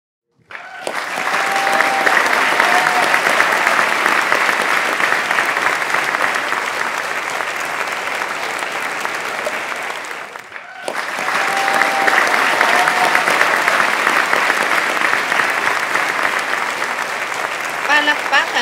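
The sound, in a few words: audience applause judging a poetry debate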